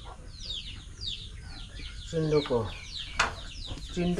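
Local chickens clucking around a Nepali home during preparations for an outdoor puja, a few short clucks and calls near and far, with other bird chirps in the background.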